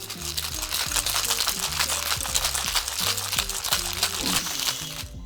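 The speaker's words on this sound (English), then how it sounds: "Shake for 10 to 15 seconds till your hands get cold." Crushed ice rattling steadily in a cocktail shaker while a Hurricane cocktail is shaken, a dense continuous crunch and swish heard over low background music.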